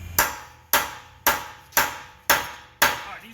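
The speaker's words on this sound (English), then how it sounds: "the harder you hit, the harder the pressure, and you want that socket to sink and bite in to the wheel lock" A hammer drives a socket onto a car wheel lock with six sharp, loud metallic strikes, evenly spaced about half a second apart, close up and with no talking.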